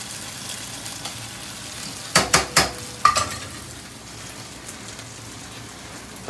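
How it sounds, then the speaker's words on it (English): Corn frying in a pan for a fried corn dish, a steady low sizzle with a few sharp clattering stirs in the middle, close and without talk. "Getting everything fried up here."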